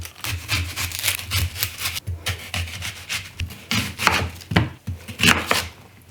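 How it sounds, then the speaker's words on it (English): Onions being roughly chopped with a knife, a close, uneven run of quick blade strokes thudding and scraping on a board with short pauses between bursts. "no amazing knife skills are needed, just rough chop"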